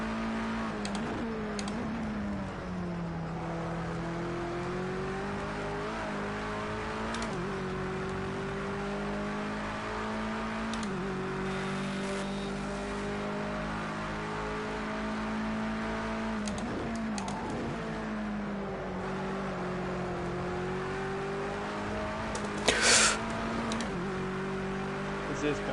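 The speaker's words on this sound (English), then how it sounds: "with the engine noise it's not that easy to hear you" A race car engine in a racing game drones continuously, its pitch rising and falling with gear shifts and throttle, while a voice talks over it.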